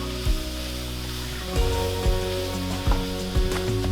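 Sliced carrot and mushrooms sautéing in a pan, a steady close sizzle with a few louder spatters and scraping stirs, a low background hum running underneath.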